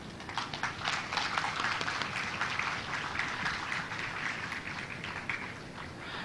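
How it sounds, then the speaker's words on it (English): A large audience at a medical college graduation ceremony claps steadily for the rank holders, a dense even wash of applause held at a moderate distance for several seconds without talk. "Let us give big applause for all rank holders"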